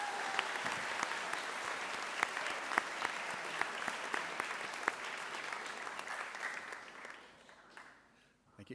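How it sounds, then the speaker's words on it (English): An audience at a national finals opening ceremony applauds the flag bearers with a steady, dense wash of clapping. It sounds somewhat distant, then fades and thins out over the final seconds. "A big round of applause to all our flag bearers today."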